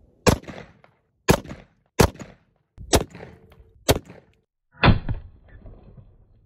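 A newly built AR-15 rifle fired outdoors, five sharp loud shots spaced about a second apart followed by a heavier sixth blast, each with a short ringing tail, no talking.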